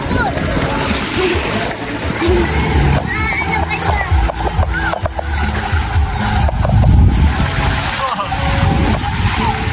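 Big waves crash and splash at a beach resort in Sariaya, loud and close, with a continuous churning wash and repeated surges while people talk and exclaim over it.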